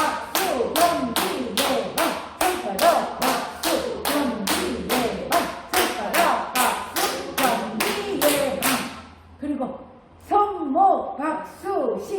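A group performs a knuckle-clapping health exercise, striking in a fast, regular rhythm of crisp taps while voices chant along, then a short pause before clapping and chanting resume.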